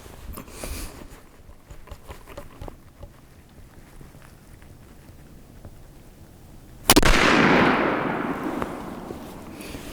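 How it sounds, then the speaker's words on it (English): A single loud rifle shot from a Swedish rolling block firing 8x56R Bulgarian military ammunition cracks out sharply near the end, its boom trailing off into a reverberant tail after a stretch of quiet outdoor background. "actually I will fire. So this is the Swedish rolling block, 8x56R, and it's Bulgarian military ammunition."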